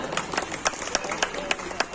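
At a Holi comedy kavi sammelan (poetry gathering) in Rambagh, an audience applauds a poet. Soft, diffuse clapping from a distant crowd is punctuated by a few sharper, evenly spaced claps that stand out above the rest.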